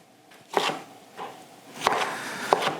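Ingredients for homemade dog food chopped into small pieces, four distinct knife strikes on a board at uneven intervals, close and fairly crisp.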